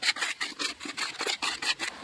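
Tile adhesive stirred by hand with a trowel in a small batch for floor tiling, giving a rhythmic series of short wet scraping strokes, about eight in two seconds, close and moderately loud with no talk.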